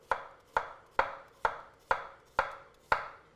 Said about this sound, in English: then chop it this way